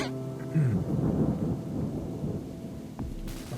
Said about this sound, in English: Now we get like thunder and rain and stuff.